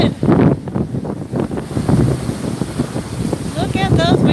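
Strong wind buffets the microphone in loud, gusty roars on open water near a boat, with a voice speaking briefly over the rush near the end.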